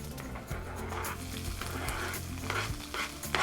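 Softened onion and peppers frying in a tablespoon of oil in a pan, a steady close sizzle with scraping stirs and a few sharper crackles, no talking.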